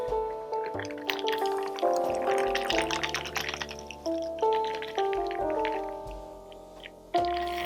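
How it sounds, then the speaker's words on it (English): Shaken rum sorbet cocktail with cracked ice pours from a shaker into a glass, a close gurgling, dripping stream that rises in pitch as the glass fills, with a few clinks and no talking. "Crack this open, and we're going to pour our drink."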